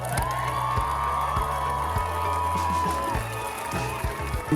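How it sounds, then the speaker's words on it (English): A crowd at a cooking festival main stage cheers and applauds in a steady, dense wash of noise, with rhythmic thumps and a sustained tone running beneath it. "Huge cheers and round of applause for Nigella Lawson."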